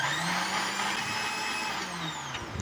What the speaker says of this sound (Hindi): अब इसे मैंने मिक्सी जार में डाल के पीस लिया है।